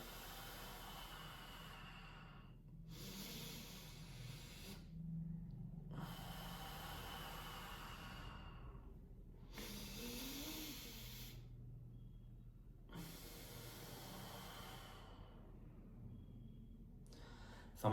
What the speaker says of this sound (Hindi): इनहेल एक्सहेल करो, पेट में सांस भरो